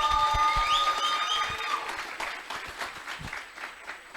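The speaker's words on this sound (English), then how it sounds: "Let's give him a round of applause for that." A crowd claps in a burst of applause that starts loud and gradually thins out, with a few whistles early on.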